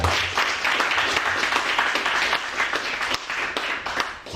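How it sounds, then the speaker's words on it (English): An audience at a business event gives a round of applause for mentors, a dense, steady clapping from many hands that fades slightly near the end. "please, a round of applause for them"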